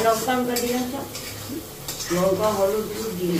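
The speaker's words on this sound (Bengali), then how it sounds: "তারপর তোমার পেঁয়াজ সমস্ত কিছু দিয়ে এখন কষছে, ততক্ষণ কষুক।" Onions and spices (turmeric, cumin and coriander) fry in a pan for a bhetki fish dish, a soft sizzle under metallic clinks and scrapes of stirring, while people talk over it.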